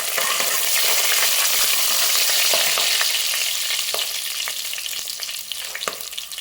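Green chili and curry leaves sizzling in hot oil alongside ginger for millet pongal, a loud continuous crackling fry with scattered pops and stirring clicks, no voices.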